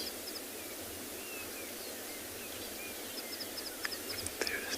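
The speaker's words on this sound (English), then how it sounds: "Also the chirping of a fork-tailed drongo." Fork-tailed drongo chirping on a sunrise safari, giving short, faint high chirps and whistles scattered across a quiet, noisy outdoor background, with a few sharper calls near the end.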